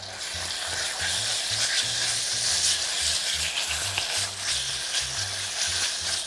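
Thin slices of beef brisket fry in a preheated, lightly oiled pot, a dense steady sizzle with stirring and scraping throughout, close and fairly loud.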